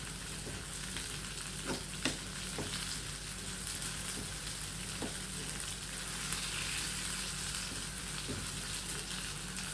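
Lentils and onion saute in coconut oil for sundakkai thuvayal, giving a steady close sizzle with occasional sharp ticks and stirring taps throughout.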